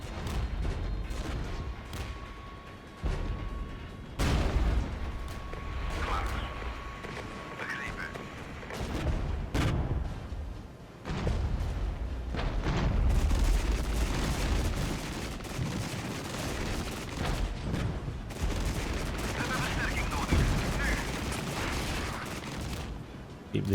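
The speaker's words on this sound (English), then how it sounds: "We'll do artillery DPICM on the T-72s." A DPICM artillery barrage from the video game Regiments falls on T-72 tanks as a dense, continuous wall of crackling bursts and heavy booms. It stays loud and relentless, with only brief dips.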